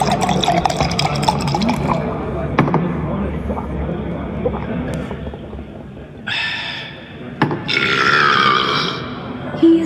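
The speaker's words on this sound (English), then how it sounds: "After draining his tankard of dark, frothy beer, he lets out a big belch." A video game character belches loudly after draining a tankard of dark, frothy beer, among game sound effects and liquid-like gurgles, with a voice speaking in parts of the clip.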